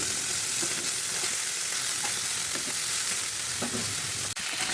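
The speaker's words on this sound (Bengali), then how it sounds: "প্যানে তেল দিয়ে প্যানের তেলটা গরম করে তার মধ্যে মাছগুলোকে উলট পালট করে ভালো করে একটু লাল করে ভাজি করে নেই।" Fish frying in hot oil in a pan, turned over until browned, giving a steady, close, loud sizzle throughout with faint stirring clicks and one brief sharp knock near the end; no voices.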